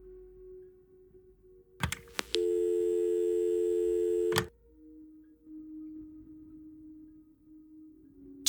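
A room telephone in the Kathy Rain adventure game sounds off with a steady, loud electronic tone lasting about two seconds, bracketed by clicks of the handset, with a quiet background hum before and after.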